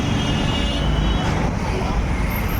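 A car travels along a city road in Madurai on an early Saturday morning, a steady broadband rumble of engine and road noise that stays close and constant throughout without a break.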